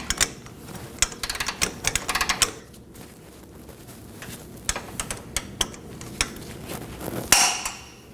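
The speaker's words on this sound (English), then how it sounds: "Insert your torque wrench and torque it down." Torque wrench tightening a front lower control arm bolt to 133 foot-pounds on a 2020s Toyota Corolla, heard as sharp metallic clicks and taps in scattered bursts, close and fairly quiet, ending with one louder click.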